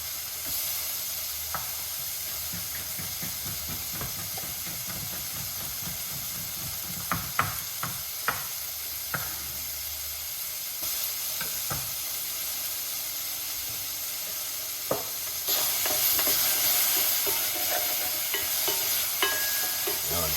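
Food frying in a pan, a continuous hiss of sizzling with scattered sharp clicks and scraping, growing louder and brighter toward the end; no talking.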